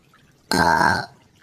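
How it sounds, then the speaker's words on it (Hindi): A cartoon crow lets out a single deliberate burp, a loud, croaky half-second belch that stands alone against near silence. "तभी कालू जानबूझकर डकार देने लगता है।"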